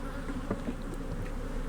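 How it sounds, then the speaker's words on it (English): Nurse bees buzzing in a dense, steady drone after being shaken off a brood frame at an open hive, close and continuous with no talking. "I'm going to shake these nurse bees over there"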